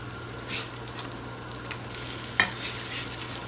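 Blueberry pancakes cooking on their second side in a pan, a soft steady sizzle with a few faint clicks and one brief sharper tap, close by and quiet, no voices.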